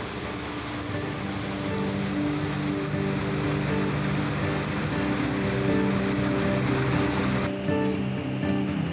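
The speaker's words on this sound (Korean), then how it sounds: "배가 우렁찬 엔진 소리와 함께 오늘의 목적지로 출발하자" A hospital ship's engine drones steadily as it departs under rushing water and wind, a constant loud roar that cuts off near the end.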